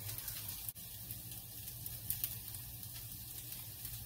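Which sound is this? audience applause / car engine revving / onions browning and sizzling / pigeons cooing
onions browning and sizzling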